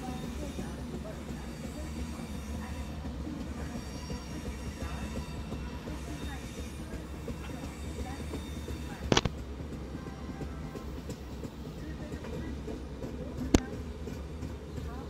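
At a busy Indian railway station, a diesel or electric train rolls by. A steady low rumble and clatter of wagons carries on throughout, broken by two brief sharp metallic clanks, and there is no clear talk.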